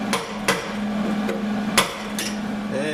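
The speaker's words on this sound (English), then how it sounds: "using a hammer and punch is a good idea around the plug holes" Several sharp metallic taps from a hammer striking a punch around plug weld holes in a Chevy Astro van's radiator core support metal, spaced irregularly over a steady low hum.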